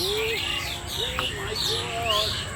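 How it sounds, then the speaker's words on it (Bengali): Several birds calling in a garden, with clear repeated whistled and chirping phrases close by over a low background hum, and a voice speaking underneath. "এত ন্যাচারাল একটা পাখিদের আওয়াজ আসছে"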